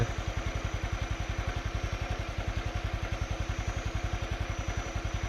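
Motorcycle engine running steadily while being ridden along a road near Pua in Nan province, Thailand, a close, even pulsing thrum with a rapid regular beat that holds without a break.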